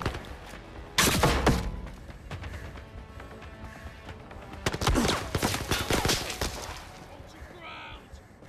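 Enemy gunfire in the VR shooter Zero Caliber, with bursts of rapid shots and thuds in two loud clusters separated by quieter stretches, and a man reacting over the action.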